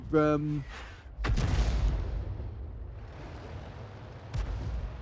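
Self-propelled artillery gun firing in World of Tanks, the 105 leFH18B2: a sharp, heavy boom followed by a long rolling rumble, with another shot later and game sounds throughout.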